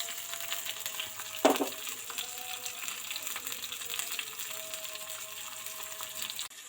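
Green chillies hit hot oil for a tempering, giving a steady soft sizzle with a sharper burst near the start, then a low continuous frying hiss.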